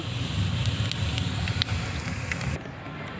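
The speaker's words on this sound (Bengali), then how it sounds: "এবার ওই তেলের মধ্যে জিরে দিয়ে দেওয়া হলো সামান্য" Cumin seeds sizzle and crackle in hot oil left from frying rohu fish for a Bengali oil jhal, a dense close frying hiss with small pops that cuts off near the end.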